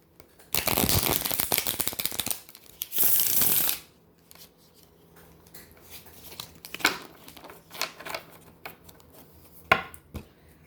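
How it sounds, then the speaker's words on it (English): Two bursts of brisk tarot card shuffling, a long riffle then a shorter one, followed by quieter scattered card taps and handling. "I still gotta shuffle more."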